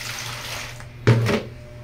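Water poured from a container to bathe Dudong, a short splashing gush near the end after a quiet stretch of faint trickling.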